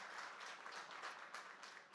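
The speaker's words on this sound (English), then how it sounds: "a round of applause for the pitch" Audience applause after a startup pitch at a startup fair pitch battle, a steady, fairly faint wash of many hands clapping throughout, with no talk over it.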